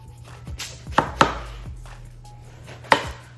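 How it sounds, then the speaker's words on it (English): A knife slicing through watermelon on a cutting board, producing several sharp, close chopping thuds at irregular intervals, with quiet background between cuts and no talking. "And then we just gonna slice them into some slices just like this"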